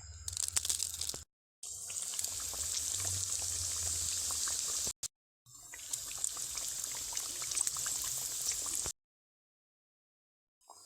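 Potato and Maggi noodle snacks deep-fry in hot oil in a wok, a steady dense crackle and bubbling hiss that cuts out briefly twice and stops abruptly near the end.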